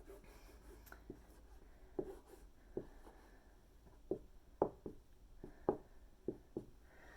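A pen scratches and taps on paper as calculations are written down, giving soft, irregular strokes and clicks close by in a quiet room.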